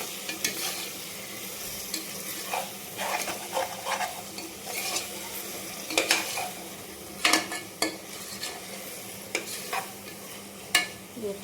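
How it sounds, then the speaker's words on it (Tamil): Tomatoes, onions and curry leaves sautéing in a pan for a mutton and broad bean curry, with a steady sizzle and repeated scraping strokes of a spoon stirring, no voices. "தக்காளி, வெங்காயம், தக்காளி, கருவேப்பிலை எல்லாம் நல்லா வதங்கிடுச்சு."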